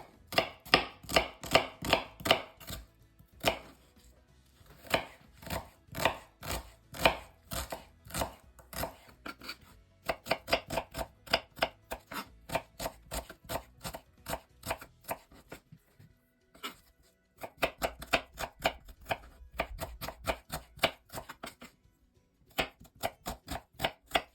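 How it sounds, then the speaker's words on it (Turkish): A knife chops an onion into small cubes rapidly on a cutting board, quick even strokes in bursts with brief pauses, close and crisp, no talking. "Şimdi soğanımı küçük küçük küp küp doğrayacağım."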